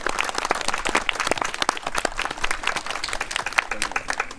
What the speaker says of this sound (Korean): 큰 박수 좀 부탁드리겠습니다